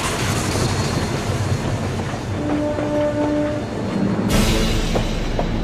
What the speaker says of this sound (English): This is Burlington Northern Santa Fe's double stack container train from Los Angeles to Dallas